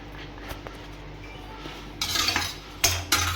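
Garlic-ginger paste and salt being mixed into raw green banana in a cooking pot, first a faint scraping stir, then a few louder metal spoon clinks and scrapes against the pot near the end.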